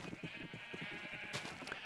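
Minecraft sheep bleating in a video game, a run of quick pulsing bleats from one or two animals, fairly close and clear over a faint background hum.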